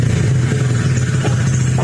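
Honda ADV150 scooter idling with a steady low engine drone and exhaust note, a faint ticking clatter running under it, close and continuous throughout.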